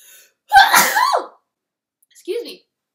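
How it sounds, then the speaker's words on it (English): A single loud, close sneeze from a woman bursts out sharply, followed after a short pause by a brief quiet vocal sound. "I have a sneeze."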